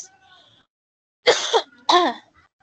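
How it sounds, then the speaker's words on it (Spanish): A teacher with a lingering cough clears the throat in two rough, close bursts, one right after the other, following a short quiet stretch with faint background tones. "todavía estoy con tos"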